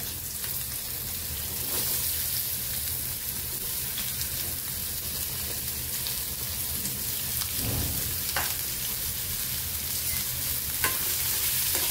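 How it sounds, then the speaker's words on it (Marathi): Finely chopped onion frying in hot oil in a pan, a steady dense sizzle that carries evenly throughout, close and fairly loud, with a few faint stirring scrapes and no talking. "तेल आपलं चांगलं तापलेलं, आपण कांदा घालून घेऊया।"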